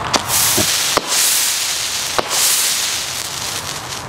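Old Shooting Stars firework by Horsebrand going off: sharp cracks and pops followed by sustained hissing bursts of sparks, fairly loud and close.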